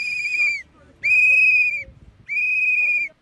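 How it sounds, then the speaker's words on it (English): A whistle blown hard three times in long, piercing blasts, each about half a second to a second long with short gaps between, loud and close with faint background noise. "somebody blew a whistle in your ear"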